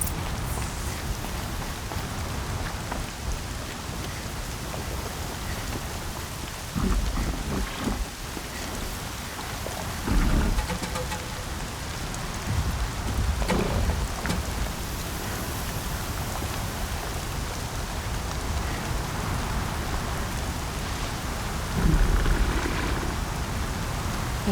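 Heavy, steady rain pours down on a surface throughout, with a few dull low rumbles rising briefly over the constant hiss; no voices.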